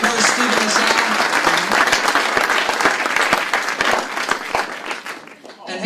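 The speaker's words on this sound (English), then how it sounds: "One more round of applause for our finalists and our winners." An event audience gives a round of applause for finalists and winners, dense sustained clapping close by that fades toward the end, with a voice speaking over it.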